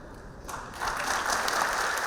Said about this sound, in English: The applause that greeted the deal's passage quickly gave way to a firestorm of discontent.